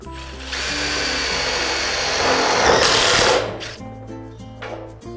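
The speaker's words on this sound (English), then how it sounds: "we just need to put one screw through the middle" A cordless power drill drives a screw through the middle of a steel carport fascia on an Absco skillion carport, a close rising whir lasting a few seconds with a brief louder grinding peak, then stopping.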